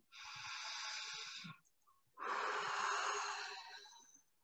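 One deep breath, close and clear: a long, airy inhale of about a second and a half, a short pause, then a longer, slightly wheezy exhale. The breath is taken alone during a calm EFT tapping session.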